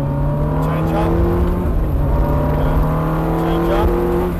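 A Ferrari 430 accelerates hard on a track, its engine note rising loud and close with steady pitch climbs, the revs swelling continuously with no speech.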